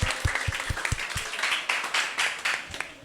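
Audience of school students applauding at a talkshow, a short burst of scattered clapping at moderate distance that stays fairly quiet and uneven throughout.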